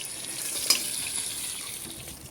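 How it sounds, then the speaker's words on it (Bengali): Marinated katla fish pieces, rubbed with salt, turmeric and chilli powder, frying in hot oil in a pan, giving a steady soft sizzle with one brief louder crackle near the start. "মাছগুলোকে তেলে দিয়ে লাল লাল করে বেশ ভেজে নিই"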